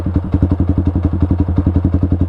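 A motorcycle engine tuned through an Aracer ECU holds around 5000 rpm, giving a loud, close, rapid pulsing exhaust beat that stays even across two seconds.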